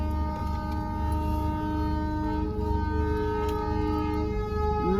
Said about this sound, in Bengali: বন্দে ভারত যাচ্ছে